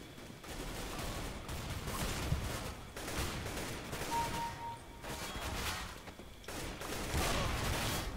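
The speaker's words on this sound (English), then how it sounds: "Fucking shotgun." Gunfire in the video game CS:GO, including shotgun blasts, arriving as repeated rapid bursts of shots separated by short pauses, fairly loud and with no talking over it.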